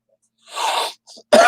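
A single harsh cough, then a short, quieter burst and the start of another forceful cough, close to the microphone in otherwise near silence.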